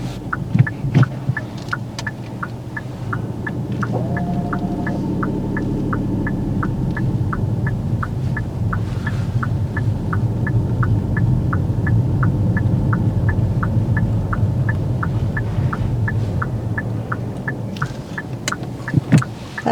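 A parked car's engine idles steadily with a low continuous hum and throbbing, plus a faint regular ticking, at moderate level with no talk.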